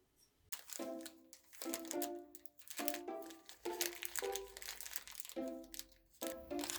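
Candy wrapper crinkling in bursts while candy is eaten indoors in a sewing room, about seven quick, close rustles separated by short pauses.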